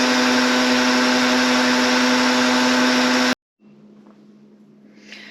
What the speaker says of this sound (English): The blender is the best tool for making butter